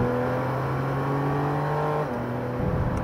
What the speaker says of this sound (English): It seems to be why this car is made, is to just explode out of corners.